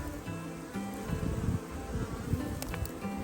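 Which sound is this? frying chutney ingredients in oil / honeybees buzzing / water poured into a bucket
honeybees buzzing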